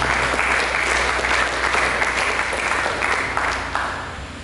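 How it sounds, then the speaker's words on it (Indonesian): Church congregation applauding during a worship service, a thick continuous round of clapping at steady volume that fades slightly toward the close. "Mari kita berikan tepuk tangan bagi Tuhan."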